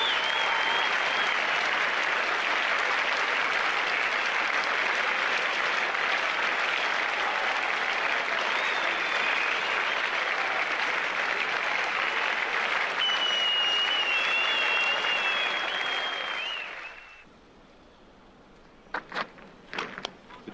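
Spectators at the 1988 Brisbane Test between Australia and West Indies give sustained, even applause to a batsman dismissed for 90. The clapping fades out near the end, leaving a few faint knocks.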